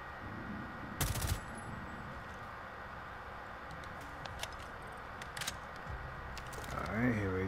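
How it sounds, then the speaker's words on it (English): A short loud burst of gunfire in Rainbow Six Siege is followed by scattered faint shots and clicks over a low, steady in-game background. "Someone's shooting."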